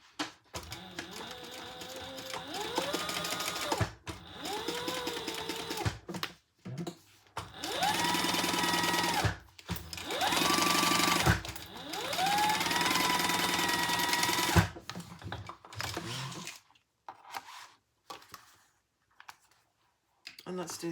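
A sewing machine bastes the ends of a makeup bag in several bursts of rapid stitching, separated by pauses and handling noises, with a quiet stretch near the end.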